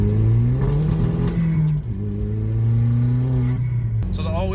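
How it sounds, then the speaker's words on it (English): A first-generation Audi TT Quattro's engine pulls hard under boost in third gear, a loud steady drone heard from inside the car that drops briefly at a shift, then climbs again. "I just hit boost back there in third gear and I broke all 4 tires loose"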